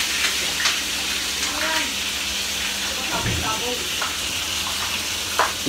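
Fish frying in hot oil, a steady loud sizzle that keeps going with a few brief clinks and stirring noises, and a voice talking briefly midway.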